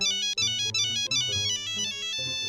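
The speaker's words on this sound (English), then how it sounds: "the fucking Nokia phone just starts going ballistic" A Nokia mobile phone rings loudly inside a room near a large vent, its bright melodic ringtone of stacked electronic tones playing continuously for a few seconds with no voices.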